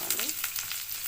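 Garlic sizzling in hot oil with mustard seeds and cumin while tempering dal, a dense crackling fry with a few sharp pops, close and steady, no voices.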